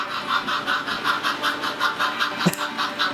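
A Spectrum 4-4-0 model train locomotive runs with its sound system on, giving a steady, fast chuffing steam-exhaust rhythm with a brief clank partway through, close and alone.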